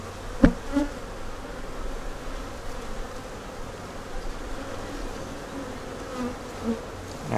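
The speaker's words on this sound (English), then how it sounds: "But we got all these bees here." A steady low hum of many honey bees buzzing around a hive throughout, with a couple of brief louder bursts as individual bees pass close.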